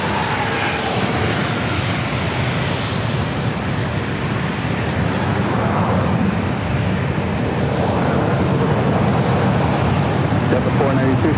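A Southwest Boeing 737 takes off at San Diego airport, a loud, steady broadband engine roar that holds throughout, with no voices.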